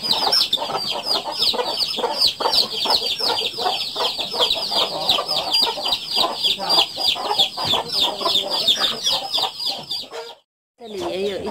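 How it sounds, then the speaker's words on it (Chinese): A hen clucks close by while tending her chicks, whose high, rapid peeping runs nonstop over the clucks until a brief break near the end. "这里也有一群小鸡，母鸡在照顾小鸡哦，好可爱的小鸡"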